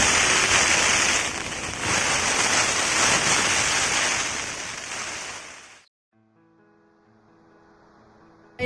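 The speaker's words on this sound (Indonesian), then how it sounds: "Kabut, hujan." Heavy rain pours down steadily in misty mountain conditions at a flooded campsite on Mount Gamkonora, a loud dense hiss that fades and cuts off, leaving faint quieter sounds.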